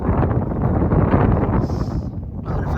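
Loud, rumbling wind buffets the microphone on the Anglesey coast, a constant low roar with gusty fluctuations and a faint higher whistle partway through.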